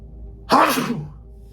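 A single loud sneeze bursts out close by, sharp and breathy, then tails off in under a second against a quiet background.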